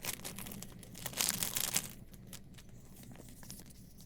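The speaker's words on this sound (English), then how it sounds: "It comes packaged in a almost childproof plastic bag" Close-up crinkling and rustling of a plastic bag, loudest in a brief crackly burst, then softer intermittent crackles.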